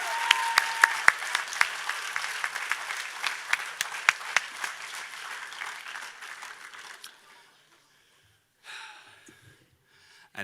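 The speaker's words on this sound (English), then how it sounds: "Can we please give Georgia a round of applause?" Audience applause at a 2020 high school graduation ceremony, a steady patter of many hands clapping for about seven seconds, then fading out to near silence before a brief faint return.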